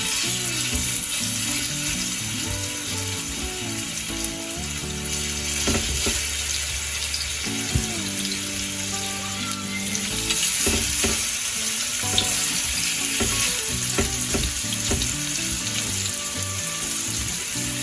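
Lamb chops sizzle on an oiled tawa grill over a slow flame: a continuous close crackle and spatter with occasional stirring or shifting sounds, under background music.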